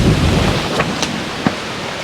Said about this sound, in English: it is very windy out there